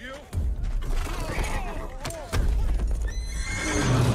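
A horse whinnies loudly up close in an Assassin's Creed cinematic trailer amid rapid clip-clopping hooves and some mechanical clatter, with a voice speaking over it.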